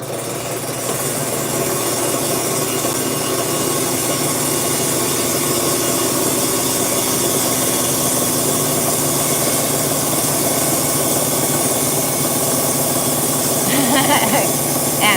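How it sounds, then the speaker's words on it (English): A rock saw cuts through a rock with a continuous loud grinding hiss and motor drone. The sound stays steady and close for the whole stretch, with a faint clink near the end. "let's just cut Ryan's rock"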